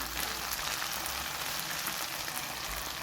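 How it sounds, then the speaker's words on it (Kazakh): Potatoes and bell pepper fry in a pan with a steady, even sizzle that holds at a moderate level throughout, with no talking. "Енді оның үстіне картошкамызды және болгар бұрышын салып, жақсылап қуырып аламыз."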